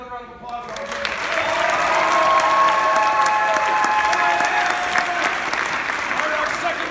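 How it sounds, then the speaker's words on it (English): Audience applause during senior recognitions at a school musical production, a dense, sustained clapping that swells quickly and holds steady near the listener, with a few voices speaking beneath it. "Give another round of applause."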